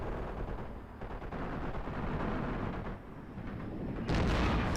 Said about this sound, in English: Shooting at the enemy, shooting at the artillery in the distance.